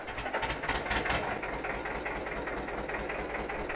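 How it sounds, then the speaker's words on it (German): A steady, rumbling vintage Deutz tractor engine in Farming Simulator 22 idles with a rhythmic low chug and faint clatter, continuous throughout, with no speech. "Okay, da rennt der Sound."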